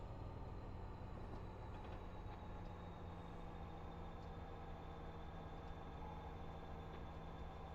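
A freight train descending Cajon Pass in a train simulator game, a steady low engine rumble and rolling drone, even and continuous throughout.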